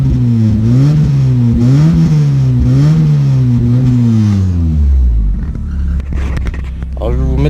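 A 1994 convertible's engine idles steadily with a smooth, even hum, close and loud, with slight rhythmic swells, then settles and fades toward the end as background noise and a voice take over.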